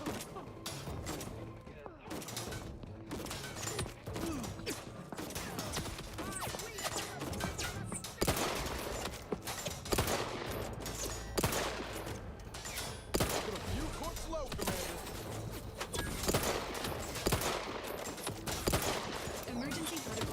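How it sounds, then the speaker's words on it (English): Gunfire in The Outer Worlds 2, a dense and fairly distant barrage of overlapping shots and thuds that runs unbroken throughout at modest level, with some talk in places. "What are these guys shooting at?"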